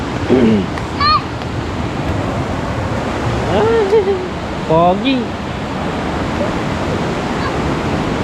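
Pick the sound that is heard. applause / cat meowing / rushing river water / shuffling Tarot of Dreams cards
rushing river water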